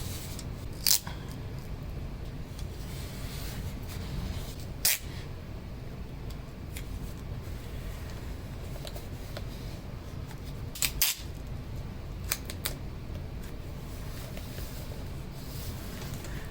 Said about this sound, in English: using an X-Acto knife to cut out the shape of the valve cover